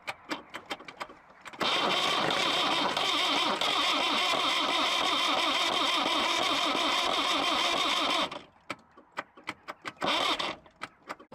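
An abandoned Toyota Crown diesel engine is pull-started: short bursts of cranking, then the engine fires and runs loud and rough for several seconds, stalls into more sputtering cranking, catches briefly again and dies.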